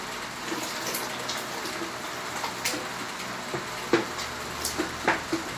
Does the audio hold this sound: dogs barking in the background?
no